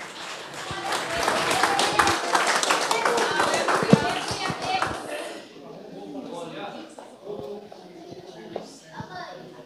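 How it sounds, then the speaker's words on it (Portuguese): A church congregation claps loudly and densely for about five seconds, then the clapping fades and people start talking, with a few scattered claps and taps continuing. "As palmas, louvam ao Senhor."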